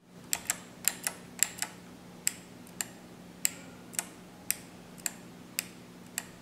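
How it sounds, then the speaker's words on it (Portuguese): A Redragon Broadsword K588-PRO optical keyboard with blue switches produces sharp, crisp clicks, a dozen or so in an uneven typing rhythm, close and fairly quiet over a low steady hum with no talking. "O som do clique é um pouco mais grave e um pouco mais alto também"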